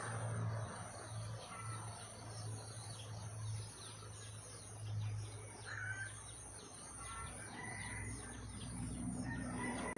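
Faint, far-off rooster crowing drifts in and out amid continuous insect chirping and low background hum, with no voices present.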